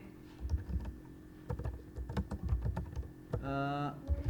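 Computer keyboard typing in a quiet room, uneven bursts of soft close key clicks, with a brief tonal chime partway through.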